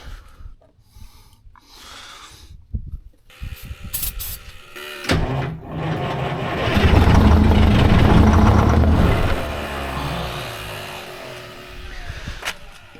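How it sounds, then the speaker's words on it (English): Detroit 8V71 two-stroke diesel in a 1973 Freightliner cabover with straight pipes, cranking over with a loud, rough churning that swells midway and settles back, close by with no talk. "I don't think we've got enough fast cranks to get it to do anything."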